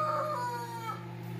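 A rooster crows in a short, drawn-out call at moderate distance in a quiet home setting, its harmonic tone wavering and then fading, with no other voices.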